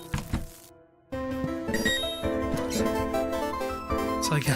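Short jingling musical ditty from the video game Horace, playing near and steady after a brief silent gap, bright layered tones continuing for several seconds.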